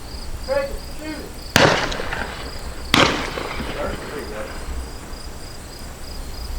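Two sharp, loud shotgun blasts go off about a second apart during an open-field dove hunt in West Virginia, each echoing briefly over a steady background chirp of insects.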